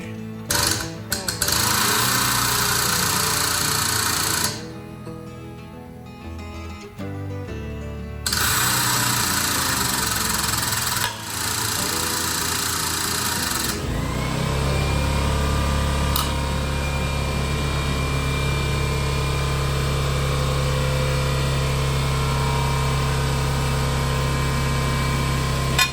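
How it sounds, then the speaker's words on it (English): Air compressor running in a workshop while an old engine is being started: a loud, steady mechanical drone with a constant hum, following earlier bursts of rattling engine and tool noise, with no talk. "Sorry about the air compressor noise."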